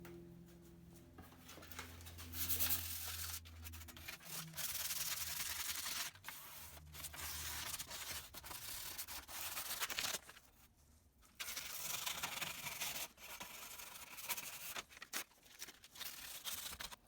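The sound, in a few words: sanding paint off old metal light fixture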